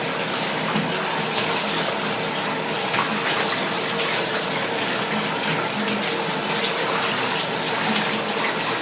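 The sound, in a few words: washing air exchanger pre-filter under running water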